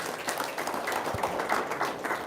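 Scattered, fairly quiet clapping from a small audience, uneven and patchy, with individual hand claps standing out.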